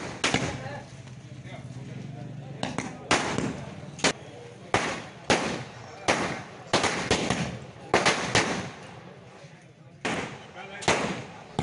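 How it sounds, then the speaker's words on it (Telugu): Villagers set off firecrackers in celebration in Challur village, where sharp, loud bursts crack out one after another at an irregular pace over a background of crowd noise. "గ్రామస్తులు బాణసంచా కాల్చి"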